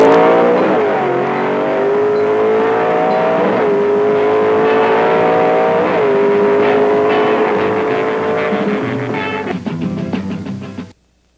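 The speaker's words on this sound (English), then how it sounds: "offered ground-shaking new 427 Mercury Comets and Ford Thunderbolts to top drivers in national drag racing" A 427 Ford Thunderbolt drag racing car revving loudly and repeatedly, its engine pitch climbing in several strong surges before cutting off abruptly at the end, heard up close with no talk.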